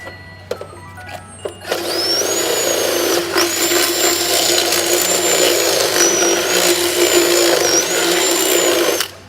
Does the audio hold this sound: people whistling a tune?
no